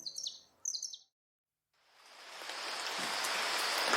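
Jays call twice high in araucaria trees, two sharp bursts of raspy chirps, then a short silence before a rising hiss of fine rain fills the remaining time.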